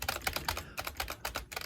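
Rapid keystrokes clatter on a computer keyboard in bursts of quick taps with a short pause midway, close and fairly quiet, with no voices.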